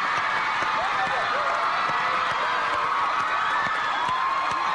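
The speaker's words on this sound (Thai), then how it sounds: "ขอเสียงปรบมือต้อนรับพวกเขาอีกสักครั้ง" Studio audience on a Thai evening talk show cheering, shouting and applauding to welcome Super Junior, a loud, dense, continuous wash of crowd noise throughout.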